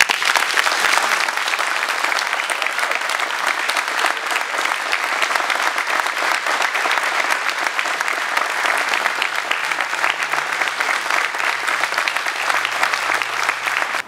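An audience at a fire chief swearing-in ceremony for a county fire district applauds in a long, dense, steady burst of clapping that holds its level across the whole stretch, with a faint low tone near the end.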